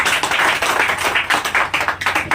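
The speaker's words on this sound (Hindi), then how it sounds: "एक बार ताली इसके लिए बजा दीजिए।" An audience at an RCM Business motivational talk applauds, with a run of quick, fairly even claps that are close and loud and have no speech over them.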